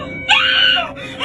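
People in a car shriek in terror in two high, wavering wails, a long sustained scream followed by a brief break and another rising cry, loud and close.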